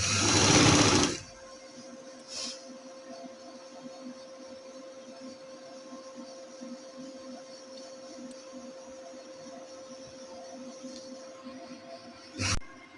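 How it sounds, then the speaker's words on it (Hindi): A sewing machine stitches fabric pieces together, opening with a brief loud burst of fast stitching, then settling into a faint, steady mechanical whir with a couple of short clicks. "इस तरह से आप दोनों को साथ साथ मिलाते जाएंगे और सिलाई लगाते जाएंगे।"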